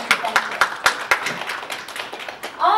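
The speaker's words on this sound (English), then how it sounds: "Give him a big, big, big hand." Audience hands clap in sharp, uneven bursts at a toastmaster's event, the claps close and distinct rather than a dense roar, with talking underneath and a voice rising at the end.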